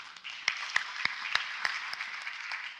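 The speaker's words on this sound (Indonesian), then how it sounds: "Beri tepuk tangan saudara" A seminar congregation gives a round of applause, a fairly thin spread of clapping with distinct, evenly spaced sharp claps cutting through the softer wash.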